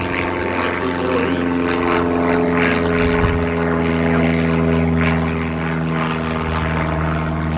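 An aircraft passes overhead beneath a flight path, giving a steady loud propeller-like drone with strong sustained engine hum that persists throughout, no talk.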